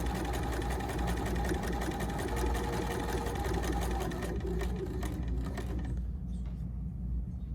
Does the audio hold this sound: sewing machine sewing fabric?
yes